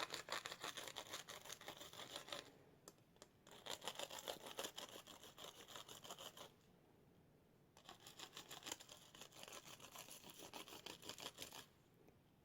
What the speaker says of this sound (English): I'm leaving it on the die because that allows me to put a little more pressure with the die brush to get through these holes.